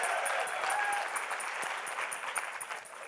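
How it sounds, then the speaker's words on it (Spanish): An audience at a summit talk bursts into applause, a thick, continuous crackle of many hands clapping at full strength throughout, with no voice on top. "Un aplauso para ustedes que están aquí"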